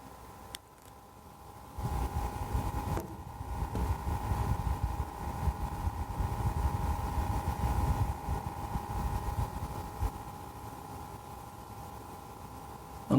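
Corsair H100i liquid CPU cooler fans running at idle, giving a steady close whirring drone with a persistent tonal hum, continuous and fairly loud throughout with no talking.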